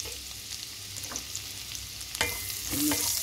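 Garlic frying in a pan while a chicken breast dish is cooked: a soft, steady sizzle with a few scraping stirs of a utensil against the pan, fairly quiet and close, no talking.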